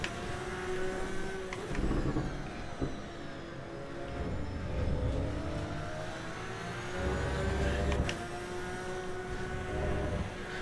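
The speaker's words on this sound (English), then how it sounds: "I can hear you put the throttle down" A Porsche in the Assetto Corsa EVO racing sim at Monza revs under throttle, its engine note rising and falling in steady waves with a few sharper surges, fairly quiet but continuous.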